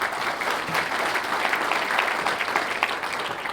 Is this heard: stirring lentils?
no